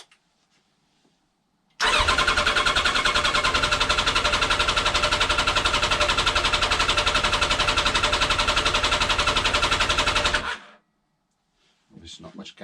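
A Kawasaki ZX10 motorcycle engine fires up and runs steadily for about nine seconds, a loud, even buzzing drone that then abruptly cuts out to near silence.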